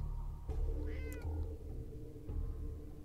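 In the video game Fallout 4 VR, a cat gives a single clear rising-falling meow, close and moderately loud over a steady low game ambience hum.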